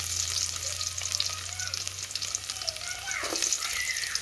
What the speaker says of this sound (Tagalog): lagay na natin itong bawang